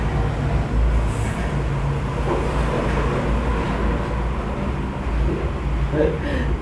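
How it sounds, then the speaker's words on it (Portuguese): A stone company's heavy vehicle passes by noisily, giving a steady loud low rumble and roar of engine and road noise throughout, close and with no clear speech. "carro de uma empresa de pedra e fez muito barulho"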